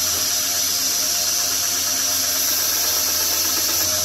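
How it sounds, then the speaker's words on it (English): A belt grinder with a 100 grit belt grinds a forged herb cutter, giving a loud, continuous, close-up roar with a steady motor hum and an abrasive hiss that holds without a break. "now we're on to a 100 grit belt"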